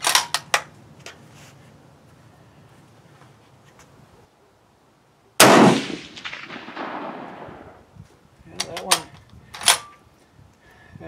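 A single loud rifle shot from a Springfield 1903A4 hybrid firing a 178-grain load on a range, a sharp blast with a decaying echo, framed by quieter clicks and handling noises.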